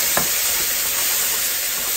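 Peppers and onions sizzle steadily in a hot pan for a keto breakfast, with a brief scrape of stirring near the start over a continuous loud frying hiss.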